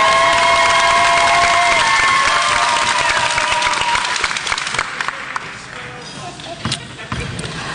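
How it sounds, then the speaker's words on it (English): Applause from the audience at a literacy council spelling bee, dense and steady clapping close by over a bright tone, fading toward the end with a few scattered claps and some talk. "Give them a round of applause again."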